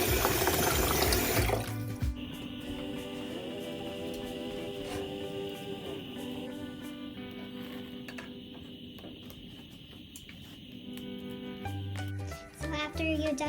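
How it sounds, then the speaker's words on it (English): Water runs steadily into a pot to make pho broth, a continuous moderate pour from a tap heard close with a faint mechanical hum in the background, starting and stopping abruptly. "This time we'll use a little bit more water because this time we're gonna use this water to do the broth."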